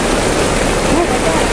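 Dense, steady roar of heavy rain pouring down on a market, constant and loud throughout, with faint voices beneath the hiss.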